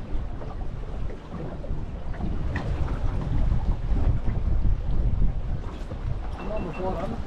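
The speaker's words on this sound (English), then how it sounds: "That wind is certainly a lot stronger out here." Strong wind roars across the water from a fishing boat, a steady broadband rush with gusting swells and buffeting against the microphone throughout.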